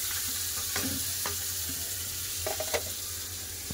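Potato pieces and boiled jackfruit seeds frying in a pan with five-spice tempering, bay leaf and dried chilli, a steady sizzle broken by several spoon clinks and scrapes, close and unvoiced.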